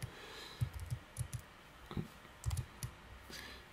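Keystrokes clatter on a computer keyboard in an irregular run of close, light clicks, some in quick pairs, over a soft background hiss.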